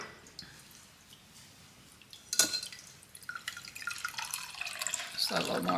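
Watermelon-infused vodka is poured from a measuring cup into a mason jar, starting with scattered drips and then turning into a louder splashing trickle of liquid into glass near the end.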